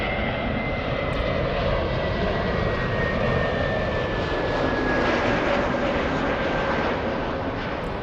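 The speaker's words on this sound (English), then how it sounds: "this is the New York flight. JetBlue flying to JFK, still on the taxiway, not moving." A JetBlue jet airliner bound for JFK idles on an airport taxiway, its engines giving a loud, continuous roar with a steady whine, heard from a distance without pause.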